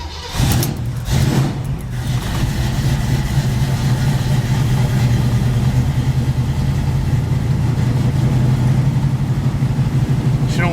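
A Chevrolet Caprice hot rod engine idles steadily on a cold morning while it warms up, with a deep, even rumble that runs loud and close for the whole stretch after a brief rough start.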